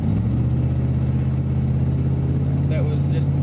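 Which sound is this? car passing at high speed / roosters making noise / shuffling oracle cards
car passing at high speed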